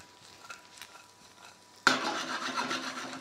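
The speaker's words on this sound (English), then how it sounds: "So I'm adding the sage leaves to my pan, and then I'm just going to give it a nice toss as well." Sage leaves land in warm butter in a pan and then crackle and sizzle as they are tossed and stirred, with a quiet scraping lead-in before a sudden, steady frying sound close by.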